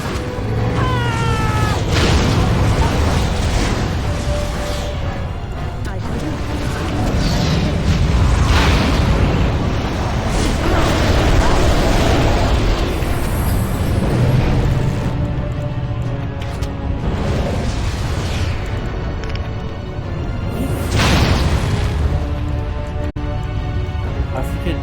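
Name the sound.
bomb explosions in the video game Dragon Age Origins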